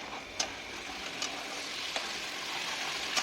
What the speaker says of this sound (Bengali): দিয়ে এটাকে আমি এখন ভালো করে কষিয়ে নেব।